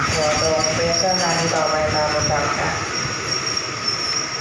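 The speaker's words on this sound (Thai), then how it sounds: "รถไฟไทยก็จอดรับผู้โดยสารที่มาช้า" A Thai passenger train rolls slowly into a station with wheels squealing and rumbling along the track, loud and close, then settles into a steady idle hum.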